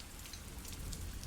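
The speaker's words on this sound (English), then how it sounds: "Just waiting out the rain." Rain falls steadily in a faint, continuous hiss with soft patter, no voices, heard alone.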